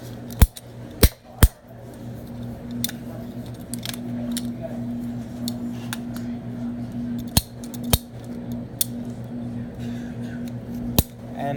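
PVC pipe being cut with a hand cutter: a handful of sharp, crisp snapping clicks, close and isolated, scattered irregularly over a steady background hum, with someone talking between them.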